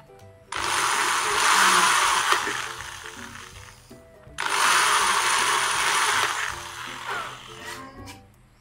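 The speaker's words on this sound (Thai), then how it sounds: "ก็เจาะแบบนี้ไปเรื่อยๆนะครับจนรอบส่วนตรงนี้ก็ใช้สว่านดอกใหญ่นะครับ" An electric drill bores through the wooden body of a phin lute being converted to electric, two long whining bursts separated by a brief pause, loud and close with a faint voice underneath.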